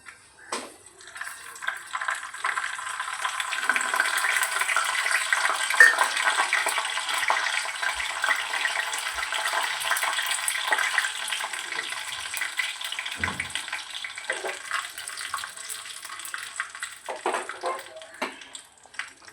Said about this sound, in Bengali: শুকনো লঙ্কা আর রসুন ফোড়ন দেবো